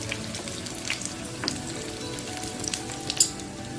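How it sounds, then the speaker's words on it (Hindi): Shami kebabs frying in a pan over medium-low heat give a steady, close sizzle and crackle with small pops scattered throughout, and no one speaks. "हम इनको गोल्डन ब्राउन होने तक फ्राई करेंगे।"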